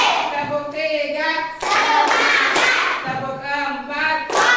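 A classroom of students in an Islamic religious education lesson claps together in short counted bursts, sharp rhythmic clapping alternating with a teacher's voice and children's calls between the claps.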